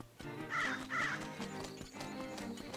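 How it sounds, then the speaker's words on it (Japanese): Harsh caws from crows in a video game, two loud calls close together near the start, then more scattered cries over a busy game soundscape with music. "カラスどもが"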